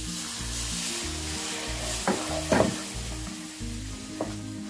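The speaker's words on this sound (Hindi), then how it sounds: "ये मैंने 1 गिलास दूध लिया है, ये इसमें मैं शामिल कर दूंगी, लेकिन थोड़ा थोड़ा करके।" Milk poured little by little into roasted semolina in a pan for gulab jamun, with a steady sizzle and stirring scrapes throughout and a few sharper clinks of the spoon against the pan.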